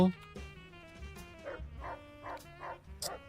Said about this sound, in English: Dog is human friend.